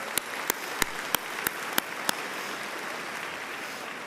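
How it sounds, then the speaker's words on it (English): A crowd claps steadily for a high school graduating class at a commencement ceremony, dense applause filling the hall with a few sharp, louder claps punctuating the first two seconds. "let's give it a round of applause"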